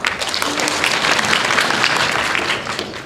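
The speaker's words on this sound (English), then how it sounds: "And a few contestants from game 2 clapped for that one too." Audience members clap to vote during a trivia quiz show semifinal, a loud, dense burst of many hands that stays strong for about three seconds and eases slightly at the end.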